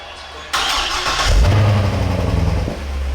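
A car engine cranks and catches with a sudden burst, then revs briefly and settles toward idle as the car is moved in a home garage, loud and close with no talk.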